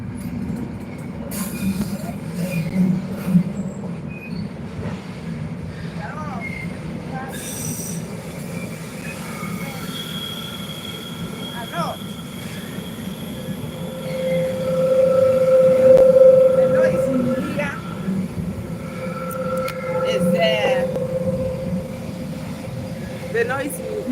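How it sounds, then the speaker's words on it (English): A train passes nearby with a continuous rumble, and wheels squeal loudly on the rails as it goes by, swelling mid-way and then easing, all without speech. "Is the train passing here?"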